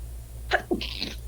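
A single sharp sneeze, close and fairly loud, with a quick intake burst followed by a hissing exhale, over a low steady hum.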